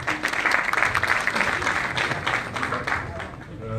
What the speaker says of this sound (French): je vous prie d'accueillir sous vos applaudissements